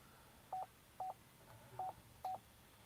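Four short, evenly spaced phone dialing tones play through the Bluetooth system of a 2018 Chevy Equinox, each a brief beep set against quiet background hiss.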